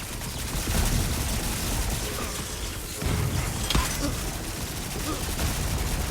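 Turrets firing in Volcanoids, dense rapid gunfire crackling continuously and loudly throughout, with a few sharper impacts mixed in.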